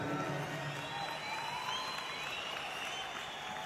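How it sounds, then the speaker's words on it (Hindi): An audience at an Indian network marketing event for AWPL claps continuously. The dense, even applause carries a faint crowd murmur and holds steady throughout. "ताली बजनी चाहिए।"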